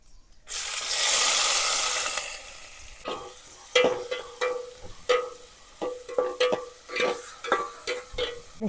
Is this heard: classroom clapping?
no